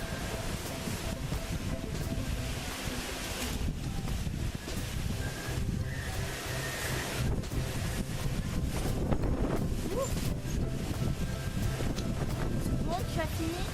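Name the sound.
wind blowing, wind noise on microphone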